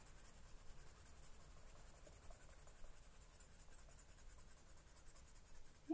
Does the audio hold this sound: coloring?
yes